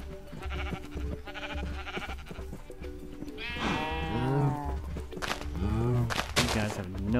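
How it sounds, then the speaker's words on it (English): A pink sheep in Minecraft bleats several times, clear wavering calls mixed with someone talking and ongoing game background sounds. "Why is this pink sheep being stupid?"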